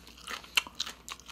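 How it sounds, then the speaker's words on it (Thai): Crispy deep-fried chicken feet seasoned with pepper and sugar crunch in several sharp, close bites and chews, loud crackles spaced across the moment. "เราลองชิมดูครับ ฟังเสียงครับกรอบครับ"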